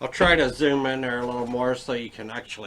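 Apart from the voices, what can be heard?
No everyday noise stands out behind the speech.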